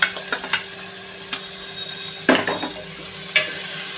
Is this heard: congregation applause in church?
no